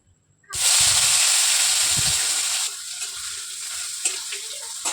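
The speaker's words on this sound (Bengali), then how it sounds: "পেঁয়াজগুলো হালকা ভাজা হতে থাকুক" Onions hit a hot pan with a sudden loud sizzling hiss that holds steady for about two seconds, then settles into a quieter, continuous frying sizzle with a few small pops.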